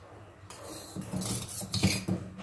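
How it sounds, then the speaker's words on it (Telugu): A spoon scrapes and clinks against a pot as it stirs heating milk for homemade badam milk, a soft irregular metallic scraping that grows louder after a quiet start, with no talking. "ఇలా ఒక స్పూన్ తీసుకొని కలదిప్పుకుంటూ ఉండండి."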